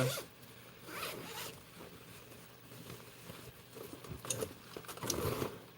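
Zipper on a tool roll bag with pouches being pulled open, several quick raspy zipping strokes in bursts, close and fairly quiet, with small handling rustles between them.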